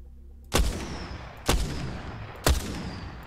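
Three loud, sharp sniper rifle shots ring out about a second apart in Apex Legends, each with a heavy booming crack and a short decaying tail.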